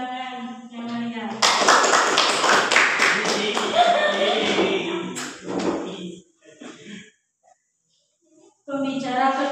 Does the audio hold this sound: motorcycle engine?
no